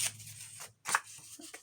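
Scissors snipping the edges of an old book page, a couple of close, crisp cuts with a brief pause between them.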